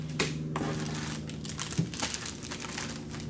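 Cardboard packaging from a Durafly Vampire V3 70mm EDF model jet is handled, producing continuous close crinkling, rustling and scraping with a few sharper crunches.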